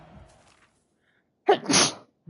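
A person lets out a single sharp, loud sneeze nearby after a moment of near silence, with a brief bit of faint background sound before it.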